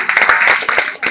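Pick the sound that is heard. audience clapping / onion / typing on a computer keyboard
audience clapping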